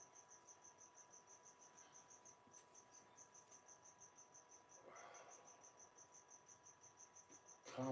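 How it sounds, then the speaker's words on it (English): Crickets chirp in a steady, rapid pulsing rhythm, fairly faint against a quiet night background with a brief rustle midway and a louder knock at the very end. "See? I have crickets."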